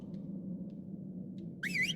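A whistle stop command in the game ARK: Fjordur, a short bright warbling whistle that rises and falls near the end, after a low steady ambient hum with a few faint chirps.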